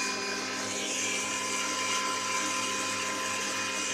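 An electric air blower whirs at a steady high pitch as it blasts dust out of a computer CPU, a loud continuous rushing roar with no talking over it.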